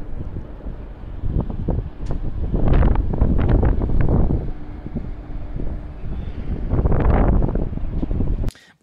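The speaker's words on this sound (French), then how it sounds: "T'entends quand même le bruit du vent, donc il est en hauteur." Wind buffeting a Google Pixel 6 Pro's microphone at a high vantage point, loud rumbling gusts surging and fading in two big swells, ending abruptly.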